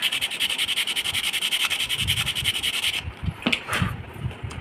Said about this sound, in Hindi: इसको मैं यहाँ से थोड़ा सा स्मूथ कर ले रहा हूँ पहले इस सैंड पेपर से घिस करके।